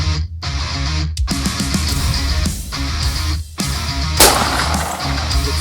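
Sharp, loud gunshots ring out outdoors during a deer hunt, several booming reports with echoing tails spread across a few seconds, with no talk.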